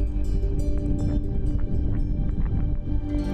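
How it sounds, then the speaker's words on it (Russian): Low, continuous bubbling and gurgling with deep rumbling churn from a boiling mud pit in Kamchatka, steady and fairly loud, no voices present. "И а оттуда все время такие бурлящие звуки, какие-то угрожающие."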